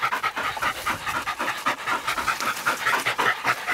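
Hunting dogs pant hard and fast after catching a young wild boar, a close, rhythmic run of quick breaths with no talk over it.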